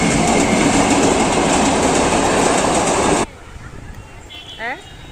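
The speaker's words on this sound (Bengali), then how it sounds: "এখন ট্রেন যাবে" A train rumbles loudly past a railway level-crossing gate with a steady, roaring clatter, then cuts off abruptly and leaves quieter street ambience in which a brief rising tone sounds.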